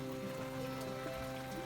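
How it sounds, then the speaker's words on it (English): Steady rain falling outdoors in Central Queensland during an intermittent shower, a constant close hiss of drops on surfaces with no pause through the short stretch. "It keeps raining on and off"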